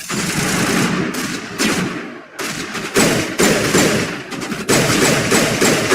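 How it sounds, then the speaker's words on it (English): Rapid pistol fire in the sci-fi video game Mass Effect, loud sharp bursts in quick succession with brief pauses between volleys, close and dense throughout. "A little pistol action."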